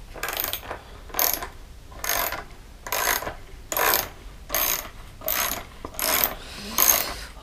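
A ratchet wrench loosening a hex bolt while a Yoshimura motorcycle muffler is fitted, giving eight evenly spaced bursts of rapid clicking, loud and close, with brief quiet gaps between strokes.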